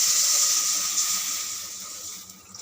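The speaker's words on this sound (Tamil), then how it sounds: "சுட்ட தண்ணி கொதிக்குது பாருங்க" A steady bubbling hiss of water coming to a boil in a pot, close by, slowly fading toward the end.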